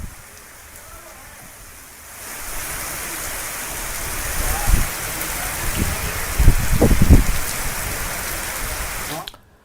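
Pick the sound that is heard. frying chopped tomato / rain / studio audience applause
rain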